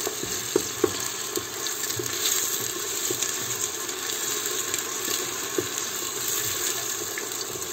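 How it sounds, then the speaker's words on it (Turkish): Steady frying sizzle of onions being stirred, with scraping and stirring clatter, a soft continuous hiss punctuated by occasional utensil knocks, no talking. "şu ilk soğanı bir karıştır bakalım."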